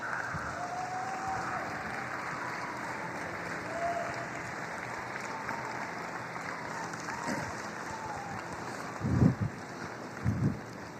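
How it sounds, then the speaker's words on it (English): Crowd applause fills a show barn at a 4-H and FFA county fair market steer show, steady broadband clapping at moderate distance, with a couple of louder thumps near the end. "Give them a round of applause."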